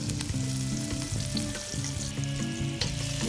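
Loud, close, steady sizzle of garlic and onions frying in a little leftover oil in a pan before cuttlefish goes in, continuous with no talking, while tonal music plays underneath.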